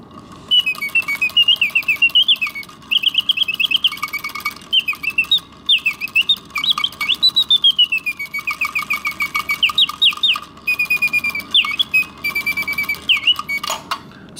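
An antique sterling silver Karl Griesbaum singing bird box automaton with hummingbird feathers and a bone beak, trilling and warbling loud, close whistled phrases in quick bursts, with the soft whir of the mechanism between.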